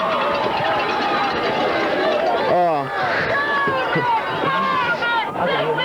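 A large crowd of about 4,000 people murmurs and chatters in the stands of a 1992 Class 3A high school football quarterfinal. The dense, loud wash of voices is close and continuous, with individual shouts rising out of it.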